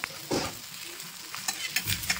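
Oil sizzles in a kadhai (wok) over heat, with a few sharp stirring scrapes and clinks breaking through the steady crackle over about two seconds. No voices are heard.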